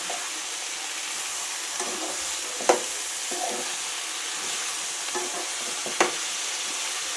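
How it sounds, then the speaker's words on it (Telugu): Chillies and tomatoes stirred in a pan with a wide spoon for a curry of potato and bitter gourd, giving a soft steady sizzle with a couple of sharper scraping knocks, close and alone. "చిల్లీస్ అండ్ టమాటోస్ వేసుకొని ఇలా కొంచెం వెడల్పుగా ఉన్న స్పూన్తో"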